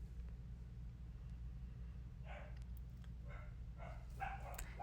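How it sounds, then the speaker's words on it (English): A dog barks a few times in short bursts, somewhat distant, over a steady low rumble of background noise. "that's my dog's barking"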